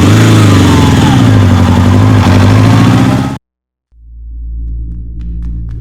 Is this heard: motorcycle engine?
yes